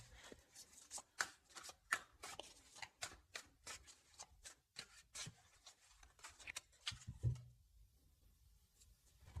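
A deck of tarot cards being handled and shuffled, a rapid run of crisp riffling flicks and slaps close by, loud and alone, ending in a brief settle and quiet.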